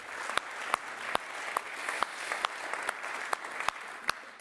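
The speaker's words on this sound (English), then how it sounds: "Let's give them a round of applause." Applause from an audience at a company's annual summer keynote event, a steady wash of hand-clapping with a few sharp individual claps standing out, moderately distant and without voices.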